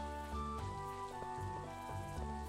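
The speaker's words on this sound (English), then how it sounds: "I love a rainy day in Stardew Valley" Soft, steady rain patters in the Stardew Valley video game, faint beneath the game's gentle melodic background music, continuous and even throughout.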